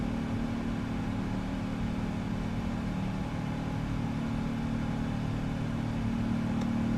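Steady drone of GE turbofan engines on a simulated Boeing 777-200ER in flight, a continuous dense rumble with a faint tonal whine, constant in level and heard alone.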